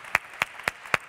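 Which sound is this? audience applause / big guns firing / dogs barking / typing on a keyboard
audience applause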